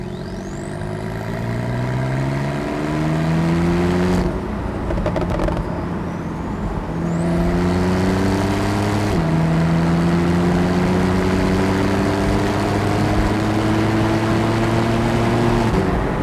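A Porsche 911 Carrera 4S (991.2) with a 3-litre twin-turbocharged engine accelerates hard through the gears. A loud, close engine drone rises in pitch, then drops at each of two shifts before climbing again. It runs steadily with no talking.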